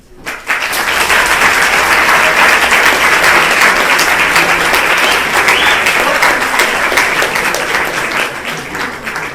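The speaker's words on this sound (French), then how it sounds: "Merci d'applaudir Monsieur le recteur de l'Académie Aix-Marseille, Bernard Beignet." An audience applauds the rector of the Académie Aix-Marseille at a university debate event. Dense, loud clapping from a large crowd starts abruptly and sustains evenly for several seconds before easing slightly toward the end.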